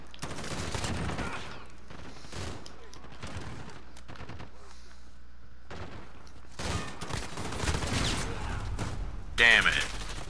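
Gunfire in the shooter Call of Duty: Modern Warfare: repeated bursts of automatic shots spaced across the clip, louder toward the end, mixed with talk.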